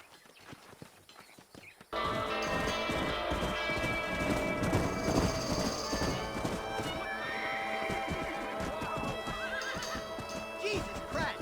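Horses in a video game gallop with rapid clip-clopping hooves and loud neighs and whinnies, a busy herd close by after a quieter opening moment, with a voice talking briefly at the start.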